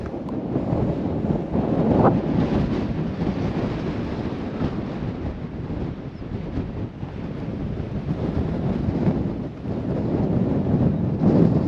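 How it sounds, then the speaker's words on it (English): Strong wind at Mount Augustus in Australia roars and buffets the microphone in a constant rush of noise, with no voices. "This is just bloody windy."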